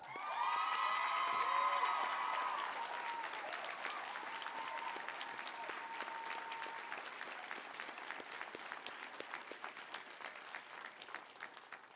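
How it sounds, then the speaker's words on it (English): Audience applause for faculty at a technical college commencement ceremony, a loud sustained clapping from a large crowd that swells at the start with a few whoops, then settles into steady, slowly thinning applause. "Why don't we give the faculty a round of applause?"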